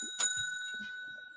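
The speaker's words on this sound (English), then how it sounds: "Ring the bell." A single bright ding from a bell rung in a sports talk show, the clear metallic strike ringing on with a sustained tone, briefly over faint talk.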